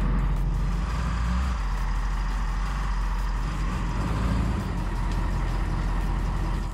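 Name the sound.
truck rolling up onto DIY wooden ramps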